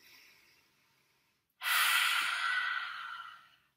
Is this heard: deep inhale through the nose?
yes